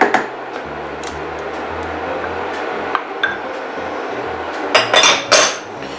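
Butter cubes stirred in a pot with the heat off, a spoon scraping and clinking against the metal in soft, irregular strokes, with a few louder knocks near the end.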